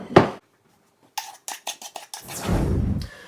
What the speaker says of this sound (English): there's not much left to do except put that in a serving dish